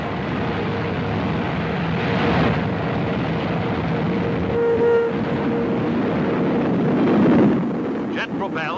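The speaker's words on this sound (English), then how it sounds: "Another V-2 is launched" A V-2 rocket launch from 1945 newsreel footage gives a loud, continuous roaring rush that builds and then fades, with a narrator's voice over it.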